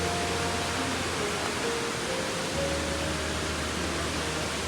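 Marmala waterfall in Kottayam pours steadily, a broad, even rush of falling water with no breaks, moderately loud and close, with no voices.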